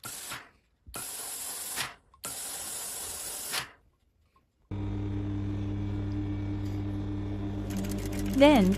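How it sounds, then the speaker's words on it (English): A sewing machine with a zipper foot stitches close to zipper teeth, running steadily for several seconds with a continuous mechanical whir, after a few short bursts of hissing spray-like noise. "using a zipper foot on your sewing machine, stitch as close as possible to the teeth"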